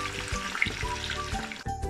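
Oil sizzles and crackles steadily as capsicum fries in a pan, a constant bright frying hiss with occasional soft knocks and stirring sounds beneath it.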